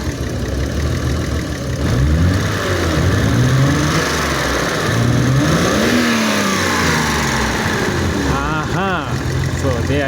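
A BMW E32 730i with the M30B30 inline-six revs up and down repeatedly, engine pitch rising and falling in steady swells close by, with voices talking over it.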